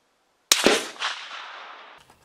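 A single loud, sharp rifle shot from a Lencac National Match M1A cracks at an outdoor range, followed by a quick second impulse and a long rolling echo that fades over about a second and a half.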